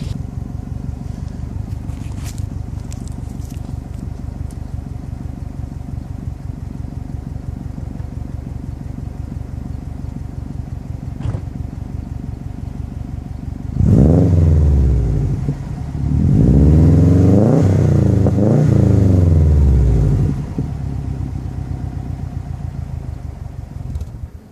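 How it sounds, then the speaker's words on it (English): A 2004 Subaru STI engine idles with a low, steady rumble, then the exhaust revs loudly twice, climbing and falling in pitch before settling back to idle. "I'll try to prop the phone up so you can hear the exhaust."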